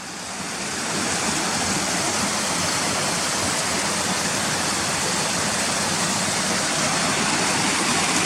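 Waterfall water rushing through a tunnel beneath railway lines, a loud, constant broadband roar that swells in over the first second and then holds steady and close.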